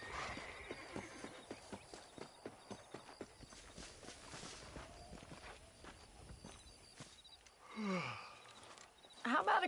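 A horse's hooves clip-clop at a steady walking rhythm in the Western game Red Dead Redemption, close and distinct at first, then fading under ambient sound, followed by a brief whinny and a snort near the end.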